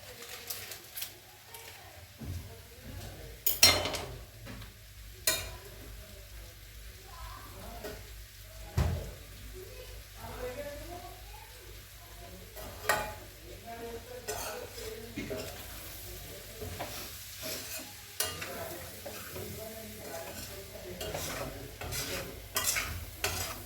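Butter pepper chicken stirred in a pan, scattered scraping stirs and clinks over a faint soft sizzle, with quiet talking in between.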